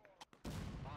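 A Civil War cannon fires in the game War of Rights with a sudden loud boom that rolls into a sustained rumbling blast, preceded by brief faint sounds.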